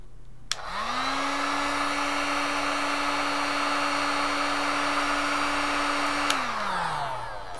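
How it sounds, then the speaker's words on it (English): A heat gun blows hot air onto a digital thermostat module, starting abruptly, spinning up to a steady whining blast, then winding down at the end; close, loud and alone. "I'm applying now heat with my heat gun."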